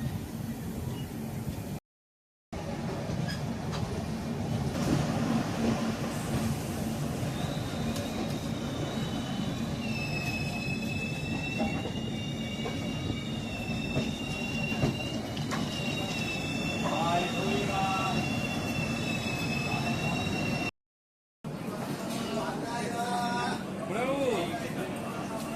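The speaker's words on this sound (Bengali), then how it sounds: "ট্রেন নির্ধারিত সময়ের থেকে 10-15 মিনিট লেটে চলছে।" A train runs at Azimganj railway station, a continuous rumbling rail noise with faint wheel squeals and whining tones lasting throughout, with a person talking over it.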